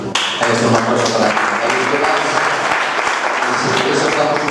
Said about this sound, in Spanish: Ahí está un aplauso para